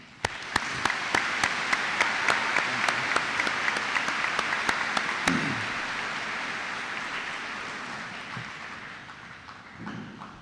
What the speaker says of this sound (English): I'd like to honor them with a round of applause